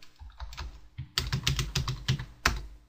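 Close, crisp keystrokes on a computer keyboard type out a short word, a brief burst of taps followed by a quick run of clicks and one final press.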